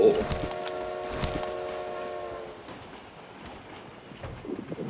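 Riding aboard a moving train: a steady rumble of the carriage with a sustained tonal whine or horn early on, fading into quieter rolling noise, with a voice briefly at the start and end.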